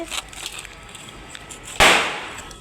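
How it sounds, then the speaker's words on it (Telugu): A single sharp firecracker bang rings out during Diwali, loud and close, its burst decaying over a second against a quiet outdoor background. "బాంబులు పేలుస్తున్నారు, దివాళీ కదా రేపు."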